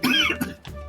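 A single sharp, close cough, raspy and exaggerated, delivered as part of an old man impression during a Sonic Unleashed gaming session. It is followed by a brief throaty trailing sound.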